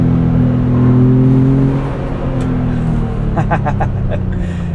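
A 2025 Ford Bronco Big Bend Sasquatch with a reworked 2.3 liter engine and seven-speed manual blips its revs during heel-toe downshifts, engine tone rising then falling under steady wind noise in the open-top cabin, with faint ticks.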